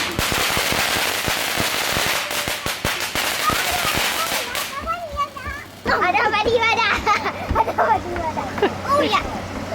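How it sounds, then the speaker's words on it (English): Firecracker-like fireworks crackle and pop in quick, loud bursts at night during a backyard birthday party, while children shout and chatter close by, their voices taking over as the bangs thin out. "Fireworks are starting."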